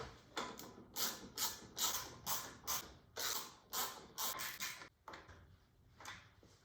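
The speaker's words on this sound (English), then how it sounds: "we'll go ahead and get them torqued down" A hand torque tool clicks and ratchets in a quick run of about a dozen short, close strokes, tightening mounting screws on a custom amp plate for a 2019-2022 Indian Chieftain or Roadmaster motorcycle, then slows and fades.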